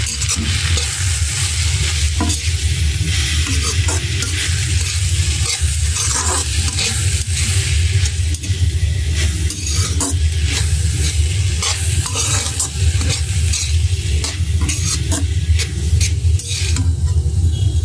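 Leafy greens stirred and sizzling in a hot pan, a steady frying hiss with repeated scraping stir strokes throughout, close and loud, no voices.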